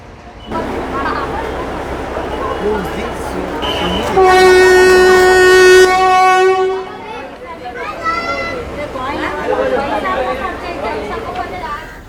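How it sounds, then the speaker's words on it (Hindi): A 100-year-old narrow gauge toy train departs Bilimora station with a loud, sustained horn blast over a busy crowd of voices and chatter on the platform. "हमारी ट्रेन बिलिमोरा के नैरो गेज प्लेटफॉर्म से धीरे धीरे अपनी रफ्तार पकड़नी शुरू कर देती है।"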